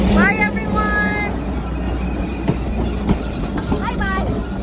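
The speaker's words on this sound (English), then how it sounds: "And there goes the train." Strasburg Railroad train pulling away from the station, a steady low rumble with rail clatter and a few sharp squeals, heard fairly near while people call goodbyes and talk over it.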